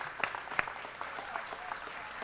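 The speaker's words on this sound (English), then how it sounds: "Let's give them a big round of applause." Light applause from a small gathering honoring board members at a New Orleans school event, with scattered individual claps standing out against a soft background murmur.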